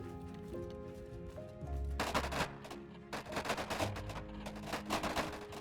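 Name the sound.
ranged troops shooting, from Bannerlord video game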